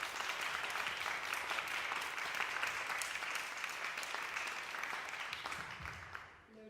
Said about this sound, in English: I think we could give a round of applause for them to answer questions for 2 hours